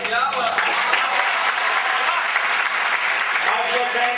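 Hall audience breaking into continuous applause after a motivational speech, dense and steady clapping throughout at moderate loudness.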